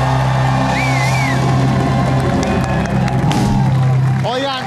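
A studio audience at a late-night comedy show applauds and cheers loudly after a comic song, in a dense, continuous roar of clapping and shouting with some voices on top.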